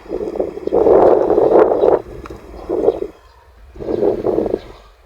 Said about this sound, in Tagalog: At malamig pa yung hangin dito sa tabing dagat.